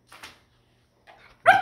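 A five-month-old Australian Shepherd puppy gives a few short, sharp yips and barks close by, two softer ones followed by a louder, ringing bark.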